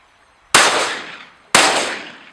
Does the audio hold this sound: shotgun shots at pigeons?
yes